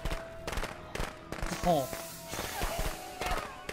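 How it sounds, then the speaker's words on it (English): Firecrackers go off in the video game Friday the 13th as a rapid string of sharp crackling pops, with people talking loosely over them. "Oh yeah, the firecrackers too."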